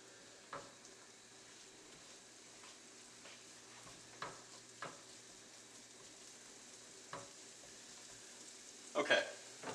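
Garlic sizzles quietly in a pan at medium heat for a venison Steak Diane, a soft steady frying hiss with a few stirring scrapes and a brief louder clatter near the end.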